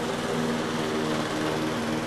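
A lawn mower engine drones steadily at a moderate distance, a continuous unbroken hum with no other sounds.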